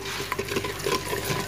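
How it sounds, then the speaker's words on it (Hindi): Spices being stirred and fried in a pan for kadhi pakora: a steady close sizzle with small scraping clicks from the spoon throughout, no talk. "2 से 3 मिनट के लिए अच्छे से फ्राई भुनेंगे।"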